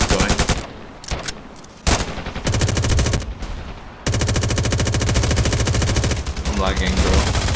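Rapid automatic gunfire in the Ravenfield video game, loud, dense bursts nearly continuous with short gaps, close up and dominating the mix.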